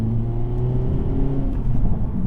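Mazda RX-8 rotary engine running steadily, a close, loud smooth hum with buzzy low harmonics and slight rises in revs, no talk.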